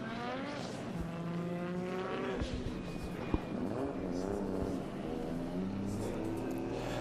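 A drift car at Manfeild's Drift Wars event revs hard and sweeps into a slide, its engine note climbing and falling in steady harmonic waves alongside tyre noise, loud and continuous, with commentary running faintly underneath.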